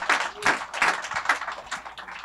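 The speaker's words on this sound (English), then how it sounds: "can we just get a round of applause for Boogie Nights?" An audience at a film night claps in applause, a quick patter of hands from a small crowd that stays fairly even and close for a couple of seconds.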